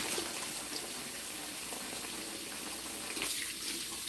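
A kitchen tap pours water in a steady, close hiss that runs unbroken throughout, with no voices.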